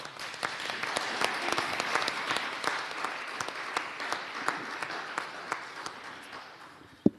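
Sustained audience applause in a university hall after a poet's introduction, many hands clapping with distinct sharp individual claps standing out, gradually tapering toward the end.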